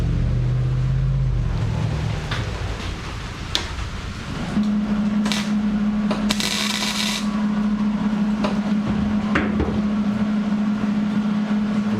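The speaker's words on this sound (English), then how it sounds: "Probably help if I turn the welder on." Welder running while custom wheel tubs are welded in a garage, a steady buzzing hum with crackling bursts after a brief start, close and continuous.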